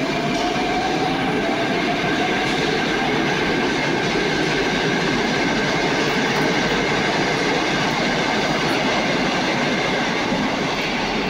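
A Moscow metro train pulls away from Pykhtino station with a loud, steady rumble, rising whine and rhythmic wheel clatter, close and continuous throughout.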